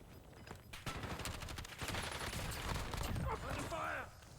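Rapid gunfire bursts overlap in Call of Duty Black Ops 6, crackling fairly faintly, and a voice calls out near the end.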